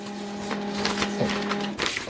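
An HP LaserJet printer runs steadily while copying a document, its motor humming with a constant tone and a rattle of paper feeding through, close and fairly loud throughout.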